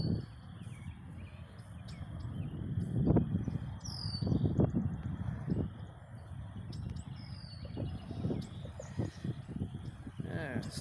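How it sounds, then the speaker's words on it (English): A noisy small bird calls repeatedly from trees along the Salt River in Michigan, sharp chirps carrying over wind and rustling, with a voice talking through much of the scene. "Just a noisy bird."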